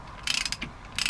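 A ratchet wrench tightens bolts on a Ford Fiesta ST transmission during reassembly, producing quick bursts of sharp metallic clicking pawl sounds, close and distinct, in two separate spells.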